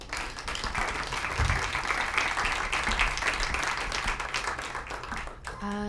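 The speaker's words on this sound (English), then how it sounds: "maybe we give our panelists a round of applause" Audience applause for panelists at a panel discussion on AI search and news, a dense steady wash of clapping that holds for several seconds before breaking off near the end into a brief tonal sound.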